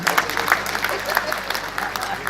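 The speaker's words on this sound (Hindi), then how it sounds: "एक बार उनकी मोहब्बत और उनके कॉन्फिडेंस के लिए जोरदार तालियां।" An audience at a Republic Day poetry mushaira in Dubai claps briskly, close dense applause with some crowd murmur and a voice over it, sustained through the short stretch.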